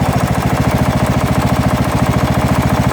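A Craftsman LT1000 lawn tractor engine idles steadily after a cold start, a loud, close, even rapid chugging with a fast regular pulse and no voices.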